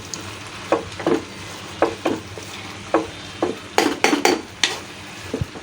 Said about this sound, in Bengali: এখন আমি একটা কিছু দিয়ে যে এইভাবে করে আলু আর ইয়েগুলো একটুখানি থেতলিয়ে দেব হালকা হালকা করে।